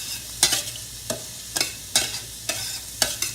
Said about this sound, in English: we're gonna get it to stirring about until it gets tender